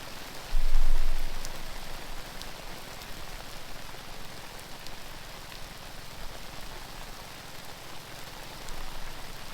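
Pouring rain hisses steadily over a solo campsite sheltered under a tree, with a dense, even wash of drops and a brief louder gust near the start. No voices are heard.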